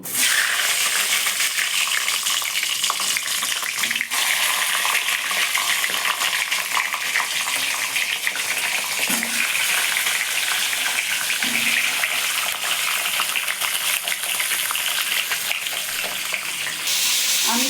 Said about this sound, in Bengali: তেলটা গরম হয়ে গেছে আমি এবার বেগুনগুলো একটু করে ভেজে নেব